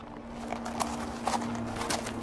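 A deer runs past in the video game What Remains of Edith Finch, its hooves landing in a few uneven, moderately loud thuds spread across the moment over a steady low ambient hum, with no one speaking.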